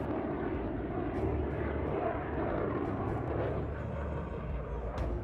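Loud, continuous engine roar of a Tejas jet passing overhead during a demo flight at the Dubai Airshow, broadband and steady, with no voices over it.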